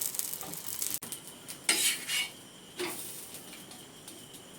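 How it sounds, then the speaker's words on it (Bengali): Paratha frying on a hot tawa, a soft steady sizzle with a few louder hissing bursts and a light utensil scrape, close by and without talk. "আবার একটি আমি দিয়ে দিয়েছি তাওয়াতে পরোটা। একই রকমভাবে ভেজে নেব সবগুলিকে।"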